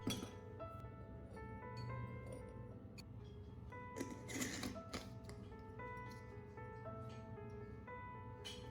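A glass jar of homemade lemon-peel seasoning with salt and black pepper clinks repeatedly in a kitchen, bright, close taps and chinks scattered through the whole stretch over a steady low background.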